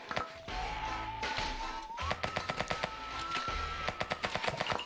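Rapid, punchy gunfire from the roguelite bear shooter game Rightfully, Bear Arms bursts out in quick repeated volleys over a steady droning music bed, loud and close.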